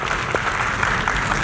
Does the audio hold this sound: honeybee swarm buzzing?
no